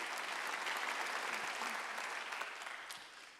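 A church congregation at a Sunday worship service claps in a steady, moderately distant wash of applause that fades toward the end.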